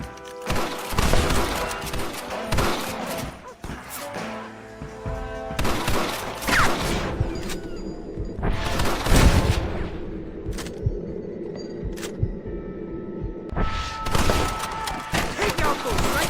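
Fusillade of gunfire in a Red Dead Redemption shootout, repeated shots and booming impacts throughout, loud and dense, with shouted game dialogue over the top.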